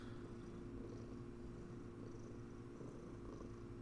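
A house cat purring steadily and close, a continuous low rumbling purr with no talk.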